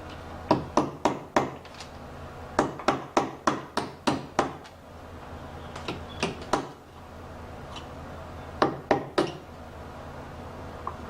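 Metal hammer strikes on a punch while reassembling a 1984 Honda 200M motorcycle engine, sharp close taps in quick clustered bursts of three to six blows separated by short pauses, with no talking.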